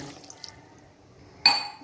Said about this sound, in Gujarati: મેં અડધો ગ્લાસ પાણી નાખી દીધું છે